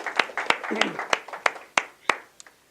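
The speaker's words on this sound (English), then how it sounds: "give these gentlemen a real big applause" Scattered claps from a small audience applauding two gentlemen at a leadership training session, about nine separate sharp claps spaced unevenly and thinning out, with a voice murmuring underneath.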